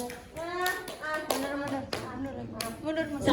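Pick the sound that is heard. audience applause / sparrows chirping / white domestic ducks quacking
audience applause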